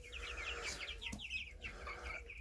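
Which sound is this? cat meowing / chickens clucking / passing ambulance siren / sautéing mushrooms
chickens clucking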